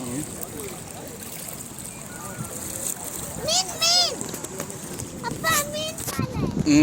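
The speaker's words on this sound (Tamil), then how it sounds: "ஸோ எதுவும் தண்ணி ஃப்ளோ ஃபாஸ்ட்டாக போகுது" Fast-moving water released through the sluice of Chembarampakkam dam rushes steadily in the background while people talk excitedly over it, their voices rising near the end.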